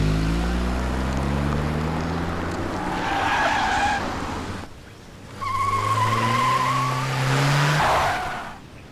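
A car driven fast with tires squealing and skidding, two long loud bursts of screeching over a roaring engine, dipping briefly between them.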